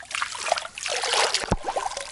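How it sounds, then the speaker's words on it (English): Clean water trickles and splashes from freshly dug soil at a house build, a close, uneven dribble with small spatters. "We just dug a little soil out of the ground, and we had this clean water, very clean, super clean."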